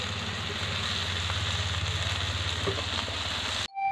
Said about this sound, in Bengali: তো দেখো চিংড়ি মাছগুলো আমি কড়া করে ভেজে নিয়েছি।